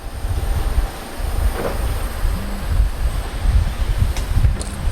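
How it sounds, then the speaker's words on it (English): A steam train on the Snowdon Mountain Railway rumbles nearby at the station, a low continuous mechanical drone with faint squeals and clanks over a busy ambient background. "So it looks like the next train going out is this particular steam train."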